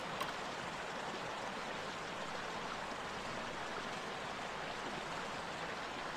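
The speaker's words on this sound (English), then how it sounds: "The ground shuddered with the throbbing reverberations of millions of tons of water cascading through" Rushing river rapids in a video game, millions of tons of water cascading through a rocky gorge, heard as a steady, dense, broadband roar that holds constant throughout with no voices.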